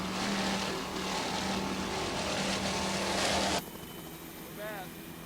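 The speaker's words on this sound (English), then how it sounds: "Powered by two 700 horsepower Mercury power plants." A 1998 Islamorada Offshore Challenge racing powerboat driven by two 700 hp Mercury engines gives a loud, steady engine roar that cuts off sharply partway through. A fainter drone continues after the cutoff.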